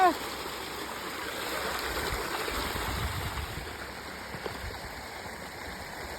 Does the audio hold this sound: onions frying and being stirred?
no